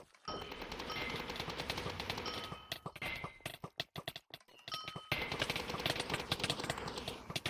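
A Wynncraft Shaman basic attack effect: rapid crackling bursts like chattering gunfire, dense and bright, breaking into stuttering hits before resuming, fairly quiet overall.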